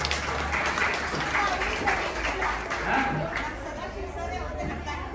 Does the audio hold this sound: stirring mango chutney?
no